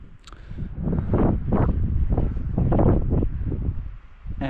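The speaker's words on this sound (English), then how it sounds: "The wind is not too bad right now" Wind gusting across an exposed mountain ridge on the Appalachian Trail at Franconia Ridge, a loud, continuous low roar buffeting the microphone in rolling surges.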